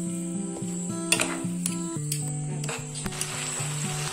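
Vegetable noodles tossed with masala hiss and sizzle in a hot pan, a soft continuous frying noise with scattered clinks from stirring, partly masked by louder background music.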